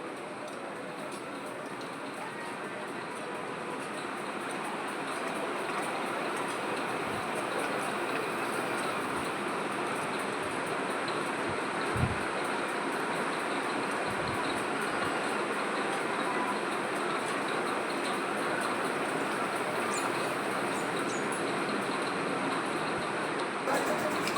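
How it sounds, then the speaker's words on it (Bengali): A children's toy train ride running at a Jhulan fair, a steady rumbling clatter heard from a moderate distance over a busy fairground background. "ওইখানটাতে দেখো কি সুন্দর বাচ্চাদের ট্রেনটা যাচ্ছে"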